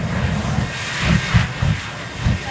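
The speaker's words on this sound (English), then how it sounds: "3 Pratt & Whitney jet engines, formerly used on a Navy T-2 Buckeye." A Shockwave jet truck with three Pratt & Whitney jet engines taken from a Navy T-2 Buckeye roars loudly and steadily at an air show, with the rumble swelling in a few pulses.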